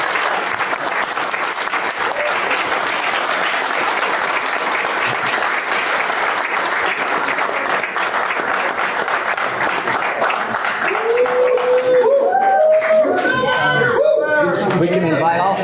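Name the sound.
audience applause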